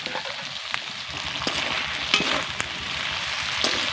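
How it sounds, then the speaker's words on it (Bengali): Pieces of shimul kanta fish fry lightly in oil with a continuous, near sizzle and occasional sharp spits and pops, and no talking. "মাছগুলোকে কিন্তু আমি খুব বেশিক্ষণ ধরে ভাজবো না হালকা করে ভেজে নেবো"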